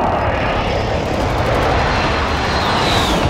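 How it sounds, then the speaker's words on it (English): An air strike in Call of Duty Warzone arrives as a loud, sustained roar of aircraft engines, dense and close, filling the whole moment without a break. "Airstrike."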